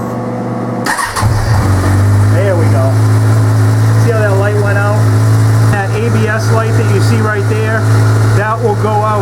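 A motorcycle engine cranks and catches, then settles into a loud, steady idle with a deep rumble, while a person talks over it.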